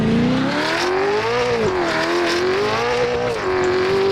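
A V8 Supercar in Assetto Corsa launches off the start with wheel spin, its engine screaming at high revs in a loud, continuous rising and dipping pitch with tire squeal mixed in.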